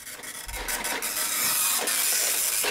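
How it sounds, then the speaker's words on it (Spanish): Dot matrix printer printing, a harsh buzzing rasp of the print head that grows louder and continues steadily, close and alone without talk. "Una impresora matricial."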